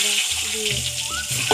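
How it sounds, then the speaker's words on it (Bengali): Eggs fry in hot oil in a karai, giving a steady bright sizzle throughout, with a voice faintly present underneath. "তেলটা গরম হয়ে গেলে ডিম দিয়ে দেব"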